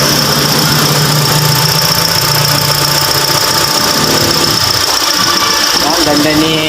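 A Toyota Vios gasoline engine runs steadily during an oil flush, a loud continuous hum with faint ticking and a high whine, with no pauses.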